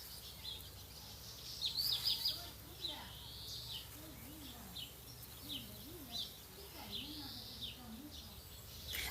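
Small birds chirp and sing in short, bright bursts in the background on a hot day, repeated calls scattered through the stretch, with a voice speaking quietly underneath.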